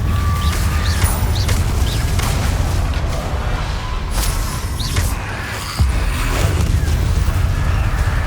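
An Incendio fire spell cast in the wizarding game Hogwarts Legacy: a dense, rumbling burst of roaring fire with crackling bangs and a sharp thud near the end, over constant low game noise.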